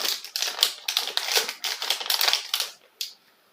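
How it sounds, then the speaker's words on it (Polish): A Pokémon TCG Silver Tempest booster pack from an Elite Trainer Box being torn open by hand: a close run of sharp, crinkly foil rips and crackles in quick bursts, ending in one last tear, with no voices. "Dobra, pierwsza paczuszka jest, otwieramy."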